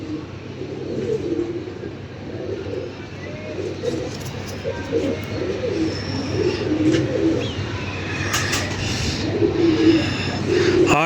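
Pigeons coo steadily in low, rolling pulses close by, with faint wing flutters and background voices.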